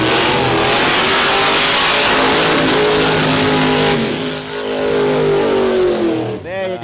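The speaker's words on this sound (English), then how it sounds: "The Gassers getting the skid on. Yeah, a couple of good skids there from Drew Hutchinson and Rowan Morrison." Gasser drag cars doing burnouts at Warwick Dragway in Australia, a loud sustained engine roar with revving and tyre noise under crowd and commentator talk, easing off near the end.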